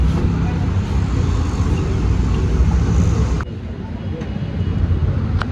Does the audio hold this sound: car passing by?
yes